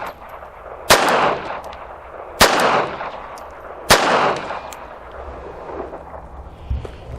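Three loud, sharp gunshots from a Charter Arms Pit Bull .380 ACP revolver ring out at spaced intervals, each with a brief echoing tail, followed by a quieter thump.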